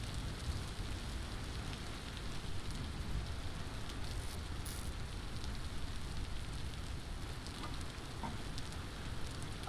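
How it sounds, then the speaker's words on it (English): Steady rain falls on a surface, a dense, even hiss with a low rumble underneath that holds at a constant moderate level throughout, with no voices. "But the rain is louder."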